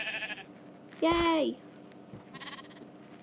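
In a survival video game, a baby sheep gives one short, loud, wavering bleat, clear and close. Someone speaks briefly before and after it, over a faint background hum.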